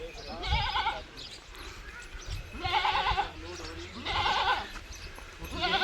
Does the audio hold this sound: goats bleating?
yes